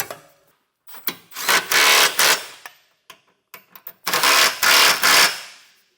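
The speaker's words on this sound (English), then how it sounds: "I'm using a 19mm socket. I'll get these all tightened down." A 19mm socket on a ratchet or impact tool tightens the bolts of a B&W trailer hitch receiver on a 2022 Toyota Highlander, with two long buzzing bursts and a few short clicks between them, close and loud.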